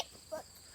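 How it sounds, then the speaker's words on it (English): A giant cricket in a potato garden gives a faint, brief chirp, a single soft trill in quiet outdoor air. "It's just a cricket, Sissy."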